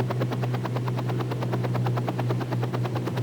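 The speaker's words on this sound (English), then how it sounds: "These choppers have a flying time limited to 3 hours." A mustering helicopter flying over the outback, its rotor producing a loud, steady rapid thumping beat over a constant engine drone throughout.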